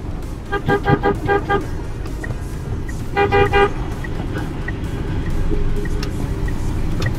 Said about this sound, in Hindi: एक बार ट्रैफिक देख लीजिए ट्रैफिक